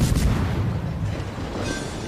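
Deep booming warship cannon blasts in the video game World of Warships rumble with a heavy low-end roar, a rapid volley of heavy shots fading into rumbling echo.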